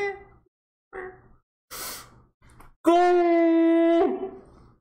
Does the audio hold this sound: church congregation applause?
no